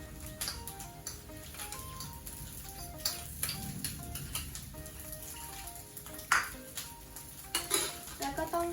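Spatula scraping and clinking in a pan while fried rice with egg and Chinese sausage is stirred, irregular close metallic taps and scrapes that grow louder toward the end, over soft background music.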